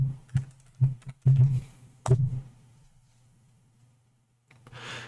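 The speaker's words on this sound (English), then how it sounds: "Okay, if my keyboard actually works." Several sharp, separate clicks from a computer keyboard come in an irregular burst over the first two seconds, close and clear, then the room goes almost silent.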